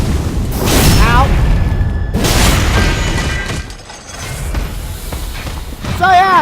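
A weapon art attack in Dark Souls 3 lands in heavy booming impacts with crashing, shattering bursts, followed by ringing and swooping magical tones near the end.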